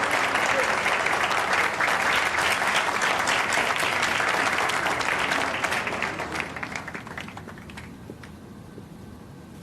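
Steady, dense applause from an audience at a hotel award presentation, loud and sustained before gradually thinning out toward the end.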